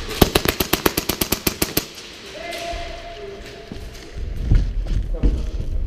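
Rapid burst of about fifteen sharp airsoft gun shots fired during an indoor airsoft conquest game, evenly spaced and loud, followed by quieter movement and thumps.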